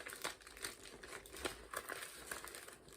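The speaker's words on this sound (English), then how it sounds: "sorry for the crinkling" Close crinkling of packaging or plastic while knitting materials are handled, a steady run of soft irregular rustles with a few sharper crackles, no talk.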